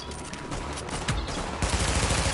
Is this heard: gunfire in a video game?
yes